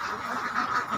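Laying ducks kept in an intensive-system pen quack in a steady, overlapping chorus, moderately close and fairly soft.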